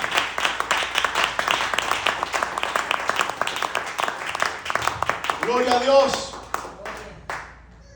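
A church congregation applauds in dense, continuous clapping, with a voice speaking over the applause near the end as it thins out.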